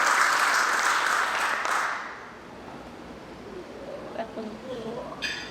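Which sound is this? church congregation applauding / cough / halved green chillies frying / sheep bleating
church congregation applauding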